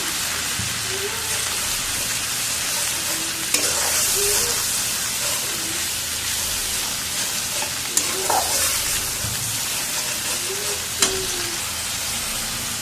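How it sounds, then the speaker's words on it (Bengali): Fried-and-ground ginger, garlic and onion paste cooking with masala in a pan for egg curry, a continuous hiss broken by a few scraping stirs and brief clinks, with faint speech underneath. "এবারে আমি এই যে এখানে আদা রসুন আর পেঁয়াজ ভেজে বেটে আসি সেটা দিয়ে দেবো দিয়ে ভালো করে কষিয়ে নেবো মশলাটা"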